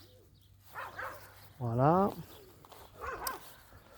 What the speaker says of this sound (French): Excusez-moi pour les aboiements de chien.